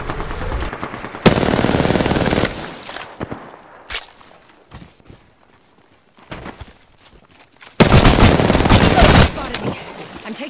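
Apex Legends gunfire comes in two loud sustained bursts of rapid automatic shots, separated by a quieter stretch of scattered single impacts and clatter.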